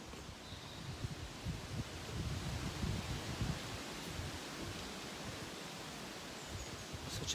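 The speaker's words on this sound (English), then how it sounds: "you can see the trees just being gently blown by the wind" Wind sweeping through leafy green trees on a walk, a steady soft rushing rustle of leaves that swells slightly and then holds even, with no voices.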